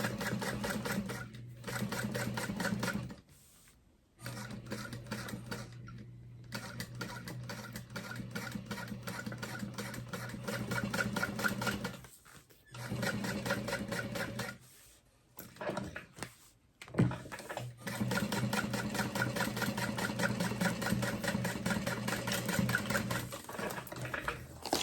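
Sewing machine stitching down the left side of a fabric binder cover through several thick layers, a steady mechanical whirr running in long bursts with brief pauses between runs, close by and without talk.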